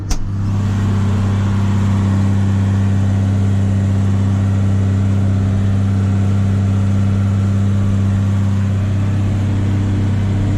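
A 300 hp tractor engine runs loud and close, a deep steady rumble with strong low droning tones, no voices.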